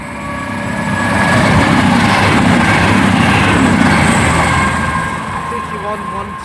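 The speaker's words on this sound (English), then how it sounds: "passing through now is a cross-country service from Manchester Piccadilly to Southampton Airport" A cross-country passenger service from Manchester Piccadilly to Southampton Airport Parkway passes through Pangbourne station, a steady broadband rumble of wheels and engine swelling and holding loud for several seconds before easing away.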